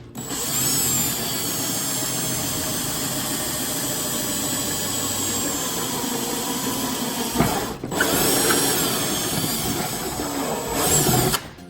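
A power drill bores a hole through a Honda S2000 bumper, running as a steady, loud whir for about seven seconds, pausing briefly, then resuming in short bursts.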